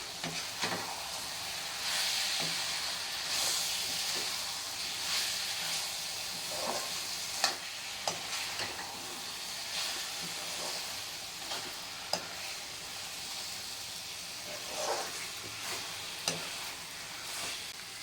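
Tomato paneer palya, with pre-fried paneer added to the pan, is stirred as it sizzles steadily and loudly throughout, with occasional scrapes and clinks of the spoon against the pan.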